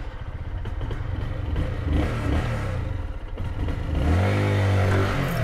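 A 2022 Lifan KPR 200 motorcycle engine coughs into life and is revved, close and loud, with a rough idle and rising throttle blips that swell sharply near the end.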